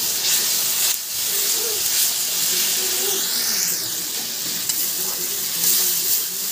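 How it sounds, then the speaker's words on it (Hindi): Masala spices fry in hot oil for an egg curry, giving a steady close sizzle and hiss with occasional stirring scrapes. "यानी कि हमारे मसाले अच्छी तरह से फ्राई हो चुकी हैं।"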